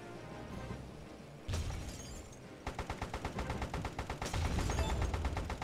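Rapid machine-gun bursts crackle in Airfix Dogfighter, an arcade air-combat game, starting with a crash and then settling into fast, evenly spaced rattling shots that grow louder toward the end.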